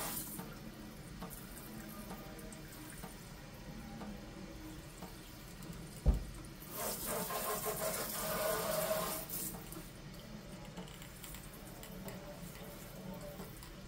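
Hot water runs from a kitchen tap for rinsing, a steady hiss that swells into a louder gush for a few seconds after a sharp knock, then eases back to a quieter trickle.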